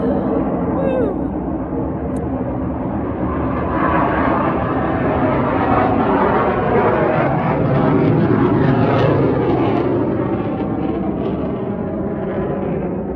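An F-15 fighter jet roars overhead, loud and continuous, with a broad rushing engine noise that swells slightly in the middle of the pass.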